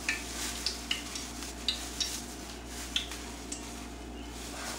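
Battered porgy fish and zucchini frying in oil, a steady soft sizzle with small regular pops and crackles, close and fairly quiet with no talking.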